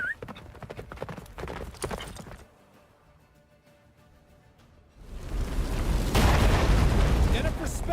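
In The Witcher 3, the horse Roach gallops with rapid, rhythmic hoofbeats, then a quieter lull. A loud rumbling, blizzard-like roar builds and the galloping continues beneath it.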